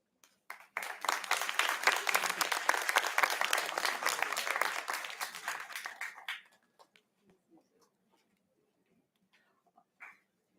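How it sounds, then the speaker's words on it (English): An audience at an award ceremony gives steady, fairly distant applause that swells and fades after about six seconds, leaving a few scattered claps. "May we please have a huge round of applause again"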